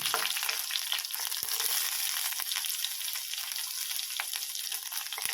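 Garlic and onion fry in a pan with a loud, constant hissing sizzle close up, dotted with small ticks and pops from stirring, and no one speaking.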